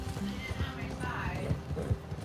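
Horse galloping in Red Dead Redemption 2, with rhythmic hoofbeats thudding beneath game sounds and a whinny, while a person talks over it.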